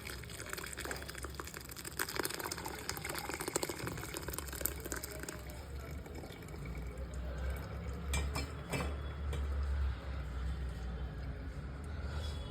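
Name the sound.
straining curdled milk-powder milk to separate paneer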